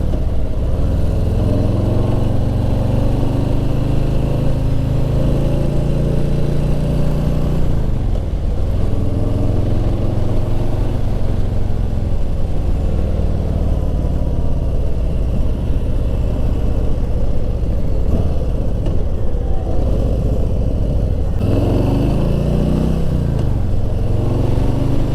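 A 2020 Harley-Davidson Softail Slim on a road test runs with a continuous close engine drone, its pitch dropping and rising again at a few shift points while the ride goes on without talk.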